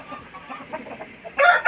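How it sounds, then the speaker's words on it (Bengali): Tiger breed roosters and hens, fully vaccinated parent stock, give soft clucks that build into a loud, close crow near the end, with no voices. "দেখতে পারতেছেন আমাদের মোরগগুলো কি চঞ্চল এবং কতটা বড়"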